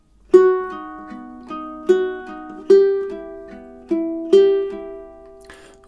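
Plucked ukulele notes and chords from measures 5 and 6 of Study in B Minor ring out alone, each sharp attack decaying cleanly in a slow, even rhythm.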